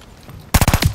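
Call of Duty: Vanguard gunfire bursts in suddenly after a quiet moment, a loud, rapid automatic volley of several close shots in quick succession.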